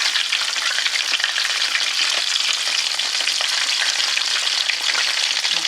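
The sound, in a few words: Flamin' Hot Cheetos battered chicken frying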